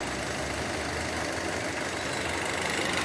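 A Nissan Versa 1.6 16V engine idles roughly with a slight shake, a steady low rumble that runs for the whole stretch at an even level, with faint irregular knocking underneath and no voices.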